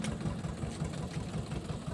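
A tractor engine chugs in a low, rhythmic throb, running steadily and somewhat faint, with no voices, in a village during paddy-planting preparations.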